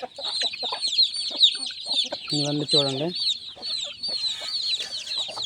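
Hens and chicks cluck busily and continuously, with one longer drawn-out call in the middle, while someone speaks briefly nearby.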